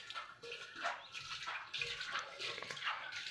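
Water is sprinkled by hand over an old clay water pot before scrubbing, a soft irregular splashing and dripping patter, close but faint, without speech.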